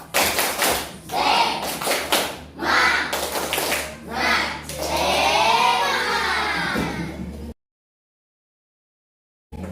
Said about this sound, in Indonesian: mari kita tepuk semangat. Tepuk semangat.